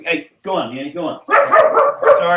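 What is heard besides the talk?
dog barking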